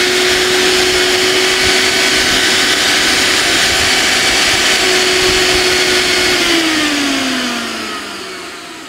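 A Miyako Atlas 2000W high-wattage blender runs at full speed with a loud, steady motor whine and roar that carries on without a break, then starts to wind down and drop in pitch near the end.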